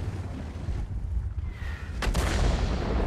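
Artillery fire in the World of Tanks video game: a sharp distant shot and its rumbling boom cut through steady engine and battlefield noise, with a faint whistle just before the blast.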